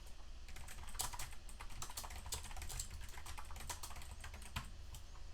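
Fast, steady typing on a computer keyboard during a coding session, a continuous run of quick, soft key clicks with a few louder taps, close and fairly quiet.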